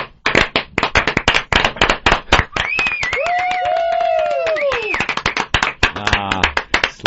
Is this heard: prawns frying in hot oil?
no